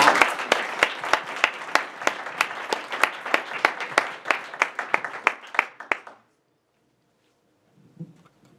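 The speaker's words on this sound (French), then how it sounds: "J'aimerais qu'on l'accueille avec une bonne main d'applaudissements." Enthusiastic applause from a conference audience welcoming a speaker, sustained clapping for about six seconds before stopping abruptly, followed by near silence and a faint brief sound.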